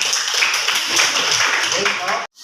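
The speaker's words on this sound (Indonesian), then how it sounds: "tepuk tangan untuk Vika" Clapping from a classroom audience during a computational thinking lesson, a dense, steady patter that stops abruptly near the end.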